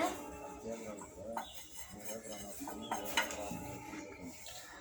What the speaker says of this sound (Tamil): அப்புறம் நல்லா கிளறி விட்டுக்கோங்க